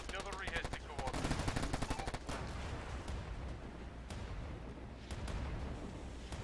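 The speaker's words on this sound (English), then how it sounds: "Field artillery has the coordinates." Field artillery bombardment in the World War battle video game Warfare 1917-1944: dense, continuous rumbling gunfire and explosions, loud and near, with sharp cracks standing out over the sustained barrage.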